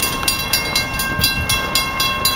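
Rumbling rail noise with a steady rhythmic clacking of train wheels over track joints, loud and continuous, no voices.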